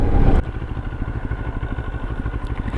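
A Moto Morini motorcycle ridden off road gives a close, throbbing engine rumble with a pulsing beat, and a louder burst at the start before it settles into a steady chug.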